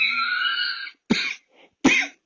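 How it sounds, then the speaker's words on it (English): A man coughs, first a drawn-out raspy throat sound followed by two sharp separate coughs, close and alone. "that's my cough"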